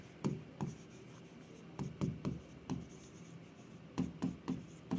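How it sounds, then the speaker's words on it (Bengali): A pen or pencil writes by hand in short, scratchy strokes, each a quick close rub followed by a brief gap, with a few stroke clusters near the end; no one speaks. "এটা একটু ছোট করে লিখি"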